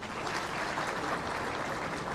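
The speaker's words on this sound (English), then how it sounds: "Another round of applause to our Cabinet Secretary, our Speaker, and our guest speaker." Sustained applause from an audience at an investment forum's opening ceremony, a dense steady clapping that fills the whole moment without pause.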